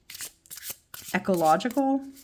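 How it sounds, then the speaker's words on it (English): A deck of The Paulina Tarot cards gets a quick, close riffle-shuffle, followed by someone speaking. "Instead of just shuffling this, let me show you."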